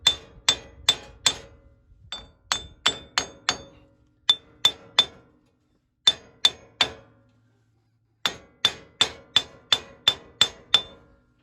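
Hammer blows on a 2010 Toyota Tacoma 4x4 wheel hub during bearing replacement, ringing metallic taps in quick bursts of three to eight strikes separated by short pauses, loud and close with no talking.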